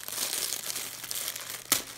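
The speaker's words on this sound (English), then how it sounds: "This tissue paper is beautiful." Tissue paper crinkles up close while a gift is unwrapped, a steady papery rustle with one sharp crackle near the end.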